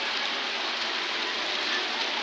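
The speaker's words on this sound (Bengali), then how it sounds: "বিকাল পর্যন্ত এখনও টানা বৃষ্টি শুনতেছে নোয়াখালী জেলায় বিভিন্ন শহরে পানি আরও বেড়ে গেছে" Steady, continuous rainfall in Noakhali, Bangladesh, heard as an even, unbroken wash of close patter on surfaces with no talking.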